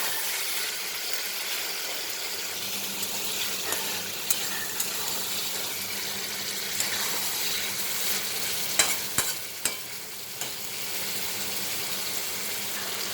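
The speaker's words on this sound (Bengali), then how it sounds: "এই মশলাটা দিয়ে ভালো করে কষবো" Spice masala being sautéed in oil in a pan for an elephant foot yam and prawn dish, a steady broadband sizzle with scattered scraping stirs and clinks, continuous throughout with no talk.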